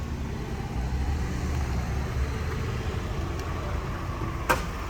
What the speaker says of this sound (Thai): มาฟังเสียงของเครื่องใกล้ๆกันนะครับ